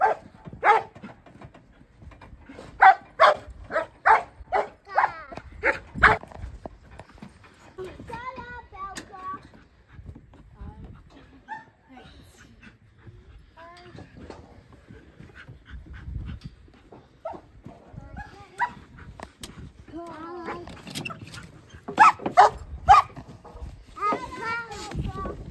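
A dog barks repeatedly in loud clustered bursts, near and sharp, with quieter stretches in between and a person talking at times.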